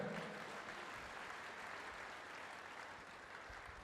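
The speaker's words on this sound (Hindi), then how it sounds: "तारीफ करो ताली बजाकर" A congregation at a church service claps in praise, a dense, steady wash of many hands that holds evenly throughout at a low, somewhat distant level.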